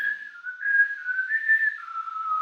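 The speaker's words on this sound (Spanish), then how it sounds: "los chiflidos, uno hacia adentro y el otro hacia afuera" A person whistles by blowing breath outward in a breathing exercise, a single sustained, fairly steady tone that wavers slightly in pitch and dips lower near the end, close and clear with no talking.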